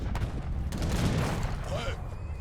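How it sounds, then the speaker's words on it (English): Musket and cannon fire in the strategy game Age of Empires 3, a dense rolling fusillade of overlapping gunshots and booms, steady and fairly loud, with a voice talking over it. "Hussars and Routier firing away"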